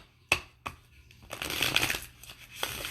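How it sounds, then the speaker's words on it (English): Playing cards shuffled and handled for a card draw, with a few crisp riffles and flicks near the start and then a sustained rustling shuffle, close and fairly quiet. "Julian, I'm going to draw a card for you"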